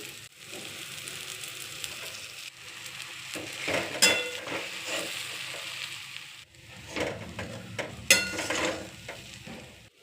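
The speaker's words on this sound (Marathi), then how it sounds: "या भाजलेल्या फोडणीमध्ये मी हे चपातीचे बारीक केलेले तुकडे घालून घेणार आहे" Leftover chapati pieces sizzle gently in a hot pan of tempering while a spatula stirs and scrapes, with occasional sharp metallic clinks against the pan, close up.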